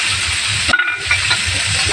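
Water spinach drops into a hot pan of oil with garlic paste and green chillies, setting off a sudden, loud, steady sizzling hiss that fills the rest of the moment.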